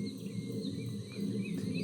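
Common redshank song in reeds: a few faint, rising whistled notes come and go over a steady, loud low rumble of background noise.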